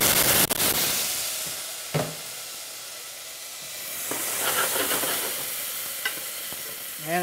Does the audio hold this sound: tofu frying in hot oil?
yes